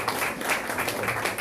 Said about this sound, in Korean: 이것으로 부울경 기독교 지도자 656인 시국선언 기자회견을 모두 박수로 마치도록 하겠습니다